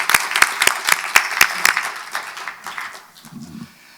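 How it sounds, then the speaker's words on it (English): An audience claps for a speaker arriving on stage at an energy conference panel in Seoul, starting with loud, distinct hand claps that merge into dense applause, then thin out and fade after about three seconds. "So let's welcome him with a big round of applause."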